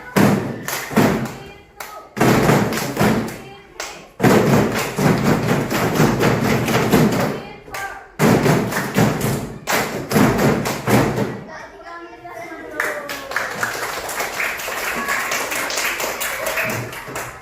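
A classroom of pupils performs a tepuk clapping chant in an Indonesian school lesson, repeated rhythmic thumps of hands in bursts separated by short pauses, with children's voices chanting along throughout.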